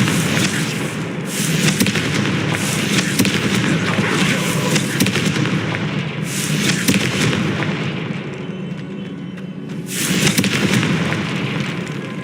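Repeated fiery spell explosions in the Hogwarts Legacy video game, loud booming bursts around 1, 6 and 10 seconds over a continuous roar of combat effects and crackle.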